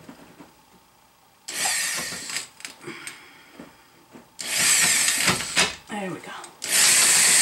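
Power drill boring into an iron angle, heard in three loud bursts of harsh grinding whine separated by quieter handling, with a brief spoken remark between them.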